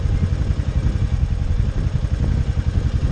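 A warm motorcycle engine idles after starting, a steady low rumbling chug with a slight clatter, close and fairly loud, no voices.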